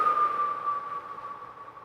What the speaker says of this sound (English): we can exhale through the mouth, thinking about fogging the mirror.